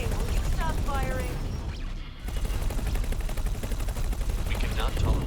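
Turret gunfire in the space game X4: Tides of Avarice, a dense, continuous rattle of rapid shots that keeps going for several seconds with a brief dip midway, under scattered in-game voices.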